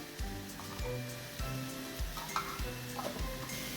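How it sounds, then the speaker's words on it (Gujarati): Tomatoes with ginger-chili paste sautéing in a pan, a steady sizzle under regular scraping strokes of a spoon stirring about twice a second, close and moderately loud with no talking. "1 ચમચી આદુ મરચાંની પેસ્ટ પ્રોપર સાતળીશું। સહેજ મીઠું નાખીશું એટલે ટમેટા છે એકદમ સરસ કૂક થઈ જાય।"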